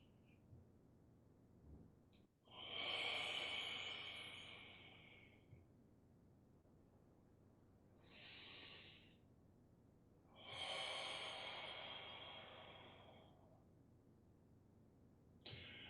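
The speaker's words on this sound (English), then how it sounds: "I'm sort of exaggerating the sounds of my breathing." A person breathes in an exaggerated, audible way during a qigong exercise for lowering the qi and cleansing the organs: three long, airy, hissing breaths, close and alone, separated by quiet pauses.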